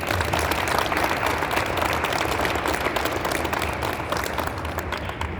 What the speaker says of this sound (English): give a round of applause to everyone who helped us not only meet but exceed our goal this year